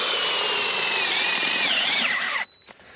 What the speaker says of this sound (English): We're going to use this auger to make our bait hole right here where we've done it in the past.